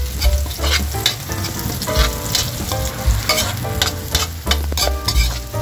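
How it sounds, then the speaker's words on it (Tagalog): Garlic and onion sauté in hot oil in a pan, a loud, close sizzle with repeated rhythmic spatula scrapes and stirring clatter, with no talking. "kaya ilalagay na natin yung ating bawang. Pwede na natin guys isunod yung ating sibuyas"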